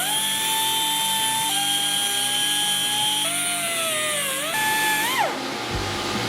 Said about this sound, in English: if you have a drill and a little grinding head